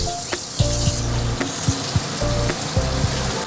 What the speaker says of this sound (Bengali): এবার তেলের মধ্যে এই পেঁয়াজ কুচনোটা দিয়ে দেবো।